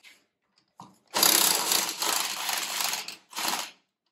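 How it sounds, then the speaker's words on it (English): A power tool loosening the axle bolt on a track, with a couple of brief clicks before a sustained, near whirring and ratcheting burst that pauses and then returns once more. "We loosen the axle bolt first,"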